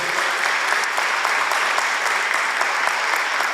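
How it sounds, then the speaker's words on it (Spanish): A church congregation applauds loudly and continuously, a thick, even roar of many hands clapping together with no voices standing out. "Porque damos un aplauso al Señor por sus vidas también, que hacen un servicio excelente."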